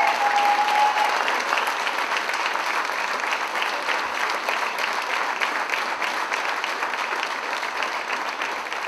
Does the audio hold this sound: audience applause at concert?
yes